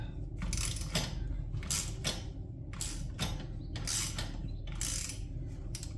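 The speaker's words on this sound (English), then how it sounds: "And shift it into high gear in the process." A DR field mower is shifted into high gear during disassembly, producing a series of metallic clicks, ratcheting and creaking bursts at close range, with no talking.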